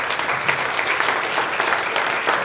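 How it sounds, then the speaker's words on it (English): Audience applause fills the room at a real estate industry panel, steady dense clapping throughout with no talking. "Round of applause, everybody."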